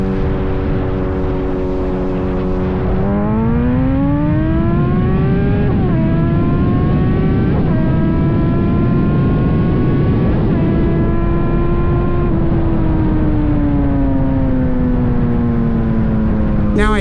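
An old liter-bike motorcycle with 172 horsepower accelerates hard and close. The engine revs climb through several gears with short dips at each shift, a loud continuous roar under wind noise.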